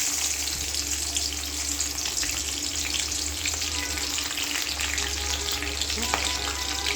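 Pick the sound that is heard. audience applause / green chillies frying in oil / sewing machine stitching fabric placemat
green chillies frying in oil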